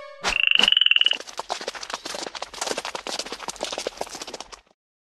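A magic horse in a 3D animated Vietnamese folk tale gallops with rapid, steady clip-clop hoofbeats, loud and close, just after a brief high, tonal cry at the start.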